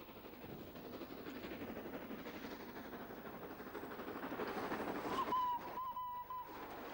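An empty stock train running downhill past a road crossing between Gleneagles and Perth rumbles by with a steady rhythmic clatter building in loudness, followed by a brief high squeal near the end.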